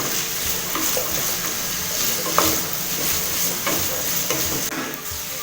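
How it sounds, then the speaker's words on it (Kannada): Snake gourd frying in oil over a high flame, loud steady sizzling up close with repeated scraping stirs of a spoon across the pan. "ಚೆನ್ನಾಗಿ ಪಡವಲಕಾಯಿನ ಎಣ್ಣೆಯಲ್ಲಿ ಹುರ್ಕೋಬೇಕು. ಸ್ಟವ್ನ ಹೈ ಫ್ಲೇಮಲ್ಲಿ ಇಟ್ಕೊಂಡು ಚೆನ್ನಾಗಿ ಫ್ರೈ ಮಾಡ್ಕೊಳ್ಳಿ."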